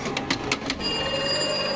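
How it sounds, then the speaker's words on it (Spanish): A restaurant telephone rings at a Chavo del Ocho exhibition in São Paulo, with four quick bursts of the bell followed by a steady electronic tone, heard up close in a room. "Está tocando el teléfono del restaurante de Ana Florinda."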